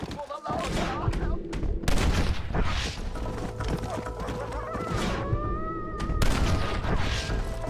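Red Dead Redemption gunfight: repeated loud gunshots crack in irregular bursts, near and punchy, with horse sounds and game chatter mixed in.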